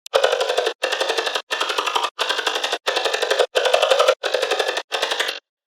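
Synthesizer tone with randomly modulated oscillators and a formant filter, played as eight evenly spaced sustained notes of similar length, each with a slightly shifting vowel-like colour, loud and alone.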